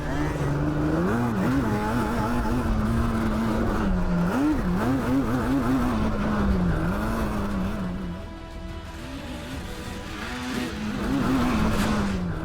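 Quad bikes, including a Yamaha Banshee, racing around a track, engines droning and revving continuously with pitch rising and falling through gear changes, loud and sustained.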